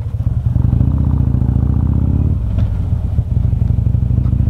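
Harley-Davidson Street Glide Special with the 114 engine, a loud, steady V-twin rumble held close by with a deep low throb, dipping briefly midway before resuming at the same idle-like pitch, no voices.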